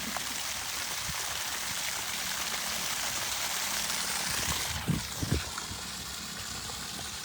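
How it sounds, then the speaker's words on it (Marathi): A mountain waterfall pours down a hillside on the way to Shirala, giving a constant broadband rush of water with a couple of brief knocks near the end. "हा डोंगरातून पाणी धबधबा आहे"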